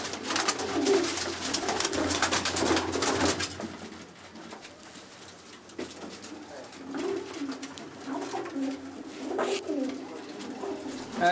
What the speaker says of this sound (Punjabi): ਇਹ ਵੀ ਬਾਈ ਜਾਨ ਸਾਡੇ ਘਰ ਦਾ ਹਾਕੀ ਹੋਮ ਬਰੀਡਰ ਕਬੂਤਰ ਹੈ